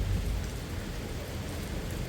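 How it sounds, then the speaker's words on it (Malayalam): Heavy rain falls steadily, a dense, continuous hiss and patter with deep low rumble, close and loud, with no voices. "നല്ല മഴയായി കേട്ടോ"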